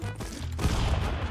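Rapid gunfire from the video game Stick Fight: The Game crackles in a dense, loud fusillade of overlapping shots and booms.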